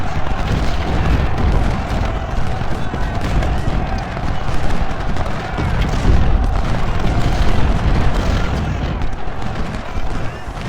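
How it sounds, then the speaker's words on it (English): Dense, loud gunfire and booming cannon volleys from a Civil War strategy video game set at the Battle of Shiloh roll on continuously, with a voice talking over the din at times. "Kurt's going to shoot at Ward"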